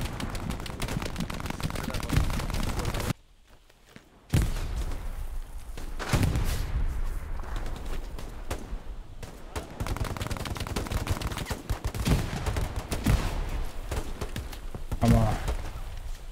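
Machine gun fire in the World War II shooter Hell Let Loose comes in dense, rapid bursts with heavy thumps, breaking off briefly into near silence before the firing resumes and continues loudly to the end.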